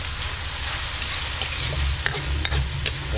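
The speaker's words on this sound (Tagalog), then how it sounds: "Gisa natin na maayos yung kamatis para lumabas yung katas tsaka yung lasa ng kamatis." Tomatoes sautéing in a pan for a Kapampangan tausi bangus dish, a steady close sizzle with stirring scrapes and a few sharp utensil clicks near the end, no talking.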